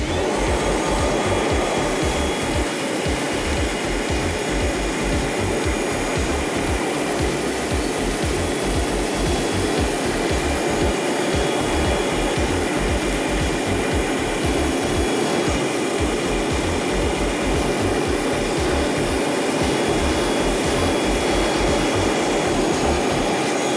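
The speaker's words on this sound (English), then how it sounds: "We're gonna see if our Flex vacuum can suck all 2 pounds out of the crevices." A Flex 24V cordless vacuum on its second speed sucks sand out of the crevices of a rubber mat. A loud, constant motor whine runs throughout, with a gritty rattling texture from the sand beneath it.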